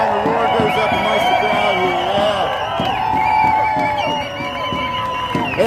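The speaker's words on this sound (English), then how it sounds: "The roar goes up amongst" Crowd roar at a No Kings protest in downtown Chicago: a dense, loud wash of many voices and cheers, steady throughout, with nearby talk mixed in.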